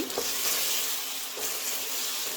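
Ground garlic and ginger paste hits hot oil in an Ethiopian tilapia fish stew, giving a steady close sizzle and frying hiss with a little stirring throughout.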